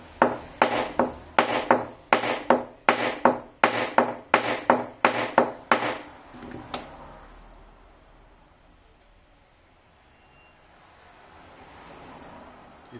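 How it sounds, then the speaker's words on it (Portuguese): Hammer blows rivet the screw of a cuticle nipper, about fourteen sharp, evenly spaced strikes over six seconds, fairly close, then a quiet room. "Venho aqui pra arrebitar."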